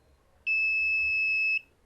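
A Minipa analog multimeter gives a single steady continuity beep about one second long as its two probe tips are shorted together on the x1 range. The high tone is clear against near silence.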